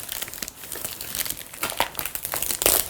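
Cardboard and plastic packaging of a BirdDog PTZ keyboard controller box crinkle and rustle close up as it is opened, a busy run of irregular crackles growing louder toward the end.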